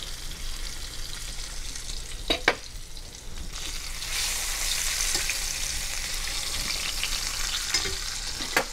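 Carnitas pork browning in a hot pan, a steady loud sizzle and fry hiss throughout with a few sharper crackles and spatters.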